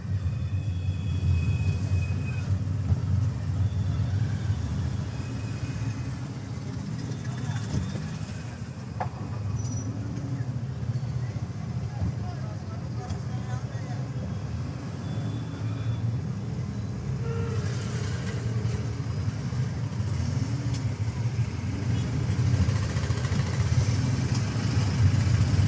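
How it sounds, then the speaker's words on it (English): Steady engine drone of a manual car moving through city traffic, with a continuous low rumble and gear changes as the car downshifts to slow and stop, plus faint traffic noise around it. "I have to stop my car, so I will be downshifting into first gear"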